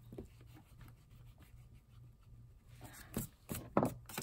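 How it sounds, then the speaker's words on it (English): Eraser rubbed on a sewing book, giving soft, close scratchy strokes in an irregular rhythm that grow louder and more pronounced toward the end. "I'm trying to get my eraser right there."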